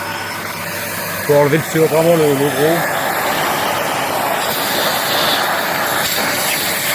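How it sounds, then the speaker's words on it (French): A vacuum cleaner hums steadily while cleaning a Stihl HSE 71 hedge trimmer, a continuous close whine with a brief wavering surge early on, with a voice talking over it. "Je vais donner un petit coup d'aspirateur."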